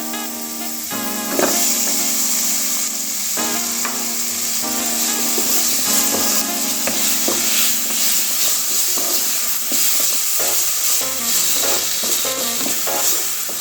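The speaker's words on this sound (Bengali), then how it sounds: "টমেটোগুলো আমি হালকা একটু ভেজে নেব।" Tomatoes for masoor dal fry in a pan, sending out a loud, steady sizzle broken by repeated scraping strokes of a spatula, close and with no talking.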